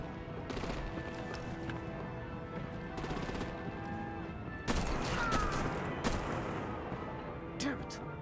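Artillery and gunfire in the Batman Telltale video game, bursts of sharp shots and rattling fire with a heavier blast midway, mixed under voices and other game sounds.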